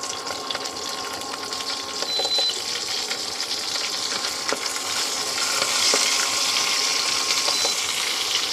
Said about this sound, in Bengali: মশলা দেব, কয়েকটা শুকনো লঙ্কা, তেজপাতা আর একটু